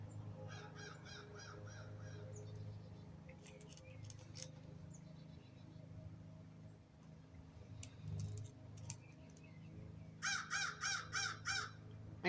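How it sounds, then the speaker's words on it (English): A crow caws outdoors on a summer day in repeated bursts of harsh, rhythmic calls, fairly faint and distant at first, then a louder series near the end over a low steady hum. "I hear you, Crow."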